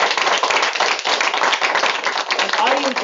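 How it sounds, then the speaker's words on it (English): Clapping from an audience at a training event, a dense burst of hand claps lasting a few seconds, close and fairly loud, with someone talking briefly over it. "So Abby and Arabelle, can we give them a big round of applause?"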